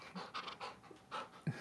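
A dog pants in quick, soft breathy bursts close by, with a small snuffle near the end.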